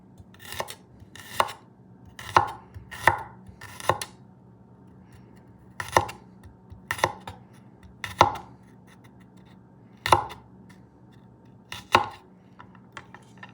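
A kitchen knife chops thinly sliced garlic on a cutting board with about a dozen crisp, separate strikes at an uneven pace, heard up close against a quiet background hum.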